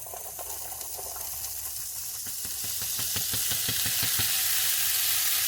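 Cut corn kernels drop into a pan of frying onions and peppers for vegan tempeh fajitas. The sizzle swells into a loud, bright hiss, with a burst of rapid crackles and pops as the kernels land. There is no talking.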